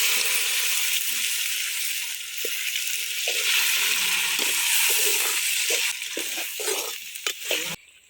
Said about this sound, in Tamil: எடுத்து வச்ச கறி கொட்டி வணக்கிடுவோம்.